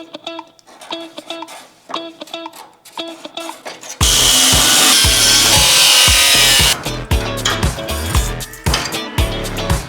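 Close, loud cutting of rusted metal on a Ford Fiesta XR2, with rhythmic scraping strokes, then a sustained harsh power-tool burst, then more rough strokes.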